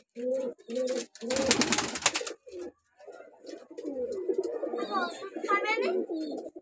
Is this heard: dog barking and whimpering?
no